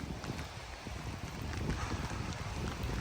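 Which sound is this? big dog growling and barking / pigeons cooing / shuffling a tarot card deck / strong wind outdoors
strong wind outdoors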